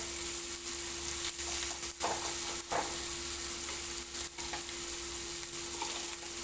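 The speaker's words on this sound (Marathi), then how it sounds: "कमी गॅसवर ठेवलं की चांगलं कुरकुरीत असं तळते ती" Continuous bright sizzling of fish frying crisp in a pan over low heat, close and steady, with a few soft bumps and scrapes along the way.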